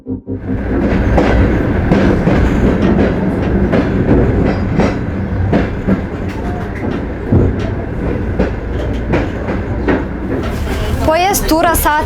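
A passenger train running from Bishkek to Balykchy rolls along the rails with a loud, steady rumble and rhythmic clickety-clack, heard from inside, with a brief squeal near the end and people talking underneath.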